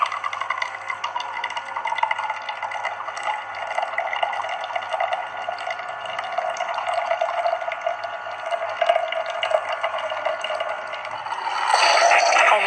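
An espresso machine dispenses coffee in a continuous liquid stream over a steady mechanical hum, growing slightly louder and rougher toward the end.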